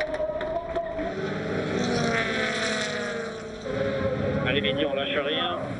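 Honda touring cars race wheel to wheel in a WTCC round in Slovakia, engines droning and rising in pitch as they pass, heard under a commentator's voice throughout.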